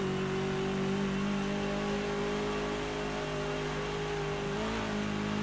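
A BMW 320 TC (E90) touring car in a racing video game at Bathurst holds full throttle, its engine droning loud and steady with a continuous high-revving tone and a brief pitch dip near the end.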